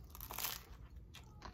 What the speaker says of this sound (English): Crunchy skin on the hot dog.